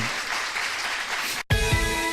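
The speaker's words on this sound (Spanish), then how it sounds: "quiero dar un aplauso a este Dios que es digno de honra y de confianza" A church congregation applauds God during a Spanish-language service, a sustained wash of clapping that cuts off abruptly and gives way to a different, louder passage.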